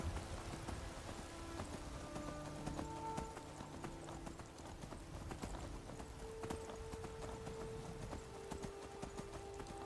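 Horse hooves clip-clopping in the video game Skyrim, a quiet steady run of hoof beats with rain pattering in the background and a faint whinny.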